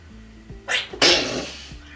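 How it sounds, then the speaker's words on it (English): Two sharp sneezes, one short and one longer, burst out close by in a kitchen while Japanese soup with tofu is being cooked; faint low hum sits underneath. "whenever you start to sneeze, you know it's ready."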